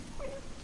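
D-Dog, the wild wolf-pup companion in the Metal Gear Solid 5 video game, gives one brief, thin whimper, a short high whine over faint background hiss.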